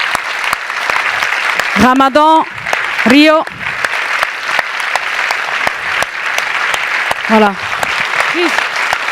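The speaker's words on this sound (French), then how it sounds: "je pense qu'ils méritent un très très grand applaudissement. Voilà, si vous pouviez leur faire une ovation." An audience at a film festival forum applauds in a strong ovation, sustained clapping with sharp individual claps, while a speaker's voice cuts in briefly several times.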